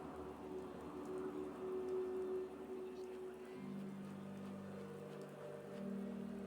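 Steady rain in the video game Fallout 4 patters softly on a surface, a quiet continuous hiss with a low hum beneath it.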